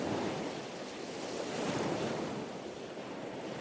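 Strong sea currents churn at the Golden Gate where bay water meets the cold Pacific, a loud, steady roar of surf and rushing water with wind buffeting the microphone, no voices.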